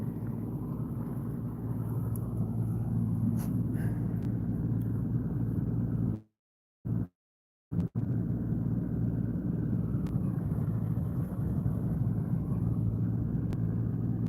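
A fishing boat motor runs at night while trolling with three rods, a low steady rumble mixed with wind, interrupted near the middle by about two seconds of near-total silence before the drone resumes, with no voices.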